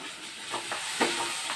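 Young jackfruit frying in a pan for a Bengali echor kasha, a soft steady sizzle with a few brief stirring scrapes, close and on its own.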